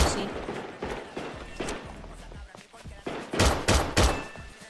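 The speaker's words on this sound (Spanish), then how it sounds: "La MK2 suena así." MK2 gun firing with a custom sound pack in the FiveM game, with repeated sharp gunshot bursts popping in quick succession, fairly soft and somewhat distant.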